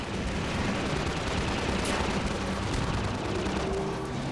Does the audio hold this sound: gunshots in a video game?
yes